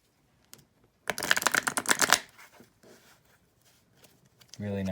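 A deck of sleeved trading cards being riffle-shuffled, one crisp burst of rapid fluttering clicks lasting about a second, close to the microphone, followed by quiet handling and then a voice speaking at the end.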